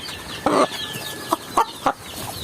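Native chickens about 35 days old give several short clucks: one longer call followed by three brief clucks, fairly close and moderately loud over a quiet background.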